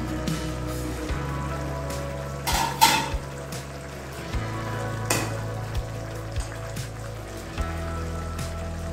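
Brinjal curry sizzles steadily in a covered pan, with a lid clattering as it is lifted and a spoon scraping and stirring through the vegetables, close and moderately loud.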